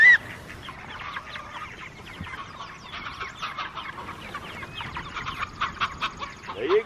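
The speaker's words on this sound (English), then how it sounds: "there goes the crazy white chicken and Tanner" A white chicken clucking outdoors among farm fowl, a steady run of clucks and squawks close by, with a brief high call at the start and another at the end.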